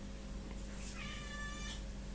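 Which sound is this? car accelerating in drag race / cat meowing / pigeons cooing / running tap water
cat meowing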